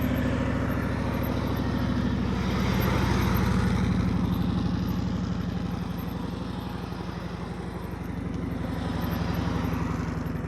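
Rented Suzuki Bandit motorcycle ridden at slow speed during a practice session, a steady low engine rumble that swells and eases slightly, close and continuous with no talk.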